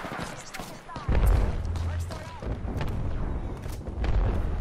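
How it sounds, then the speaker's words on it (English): Grenade explosions in a multiplayer shooter match: several heavy low booms, one landing near the one-second mark and another near four seconds, over ongoing gunfire and game noise, with players talking under them. "I threw some grenades. I got a hit."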